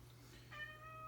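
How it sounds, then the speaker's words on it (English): A pet cat gives one faint, drawn-out meow halfway through, well off the microphone, over a low steady electrical hum in a quiet room. "Sorry if you hear my cat meowing."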